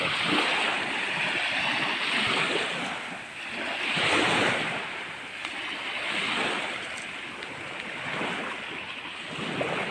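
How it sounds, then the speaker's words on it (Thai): Strong ocean waves surge and wash onto Koh Samui beach in slow repeating swells under gusting wind that buffets the microphone, loud and continuous with no voices. "คลื่นทั้งคลื่น ทั้ง ลม ก็ถือว่าค่อนข้างแรง นะครับ"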